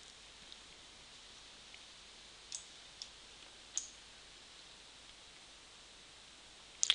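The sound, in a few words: mouse clicking in Outlook integration tools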